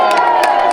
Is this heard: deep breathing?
no